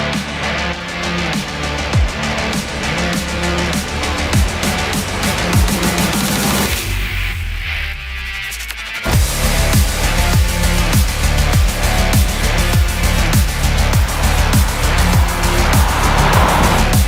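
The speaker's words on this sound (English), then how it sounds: "listen to this GT500 roar" A 1968 Shelby GT500 convertible engine roars loud and close, with a steady heavy rumble that dips briefly in the middle before surging back, and no voices.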